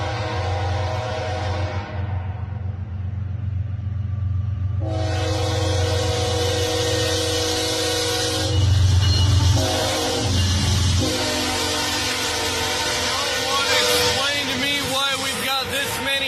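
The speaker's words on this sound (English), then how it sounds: "You hear that train coming?" A train passes near the tracks by a trailer park and sounds its horn in long, loud blasts, with a rumbling roll and wheel clatter rising and fading as it goes by.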